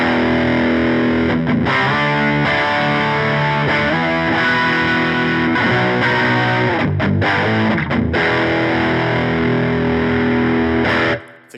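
Electric guitar played through a J-Rock Audio Dude overdrive pedal for a warm amp-like drive, loud sustained chords and riffs ringing continuously for about eleven seconds before cutting off, no voices.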